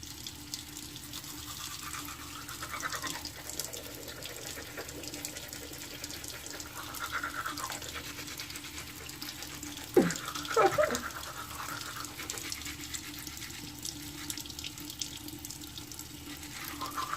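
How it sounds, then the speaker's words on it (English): A toothbrush scrubs teeth with charcoal mint toothpaste in a steady, soft, close-up rasp beside running sink water, with a brief louder clatter near the middle and no talking. "So yeah, I'm about to get the brushing."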